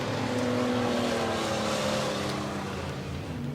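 Stock cars racing around a speedway oval during a heat at Waikaraka Park, engines droning steadily at a distance, with a continuous roar that slowly fades slightly toward the end.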